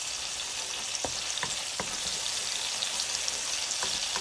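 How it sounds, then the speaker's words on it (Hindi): Chopped garlic fries in cooking oil for chicken macaroni, a soft, even sizzle with a few sharp spatula clicks and light pops scattered across the short stretch. "अब इसमें मैं 1 टीस्पून चॉप्ड गार्लिक ऐड कर दूंगी और इसे बस मैं तकरीबन कुछ सेकंड के लिए फ्राई कर लूंगी"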